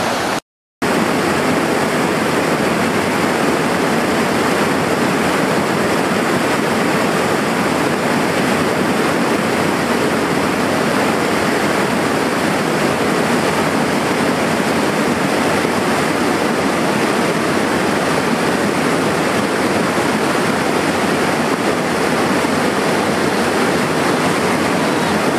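Loud, steady rush of a river at a crossing point on a cold-weather backpacking trip, a dense unbroken roar of water that fills the whole stretch after a brief dropout at the start.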